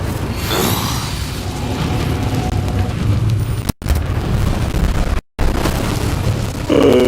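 An Incendio fire spell is cast in the video game Hogwarts Legacy, giving a loud whooshing burst of flame with booming, rumbling impacts that run continuously, broken by two brief silent gaps.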